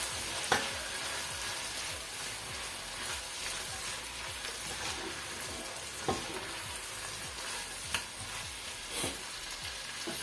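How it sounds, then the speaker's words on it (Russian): Chopped onion and carrot sizzle and stew in a pot over low heat, a steady crackling fry with a few brief clinks and stirring knocks, close and alone with no talk. "Добавляю лук, морковь, все, что я нарезала. Хорошо перемешиваю и оставляю томиться на медленном огне."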